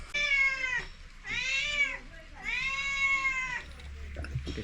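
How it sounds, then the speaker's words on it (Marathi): A pet cat meows loudly and close by, three long drawn-out calls with short pauses between them, followed by a brief rustle at the end. "आमचं मांजर लई आरडा लागते."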